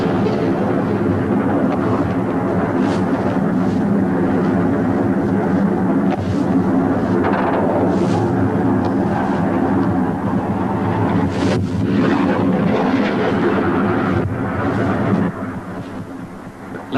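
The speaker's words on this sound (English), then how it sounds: "the first warning came as the planes swept low over the ships, Sir Tristram and Sir Galahad" Argentine Air Force military planes sweep low over the landing ships Sir Tristram and Sir Galahad during the 1982 Falklands War, a loud, continuous thunderous roar that holds steady before easing off near the end.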